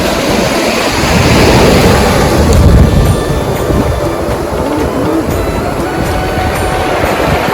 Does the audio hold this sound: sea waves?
yes